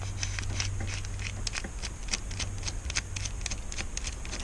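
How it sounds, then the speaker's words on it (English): Rapid series of small, sharp plastic clicks as a plastic quadcopter part is pushed down over screw threads, close and fairly quiet, ticking irregularly throughout with a faint low hum behind. "That clicking sound you heard was the plastic as it went down over the threads of the screw."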